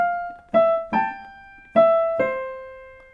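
Five piano notes from the melody of a song ring out one at a time in a slow line, each struck clearly and left to fade.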